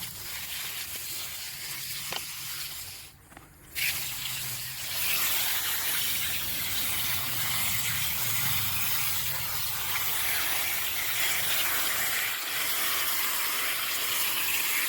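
A steady, broad hiss of water sprayed through the back of a paper air purifier filter runs throughout, briefly dipping early on before continuing strongly and evenly.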